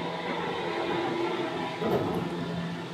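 A Seibu Shinjuku Line 2000 series train running, with a steady rumbling rail drone and a faint hum, constant and close throughout with a slight swell near the end.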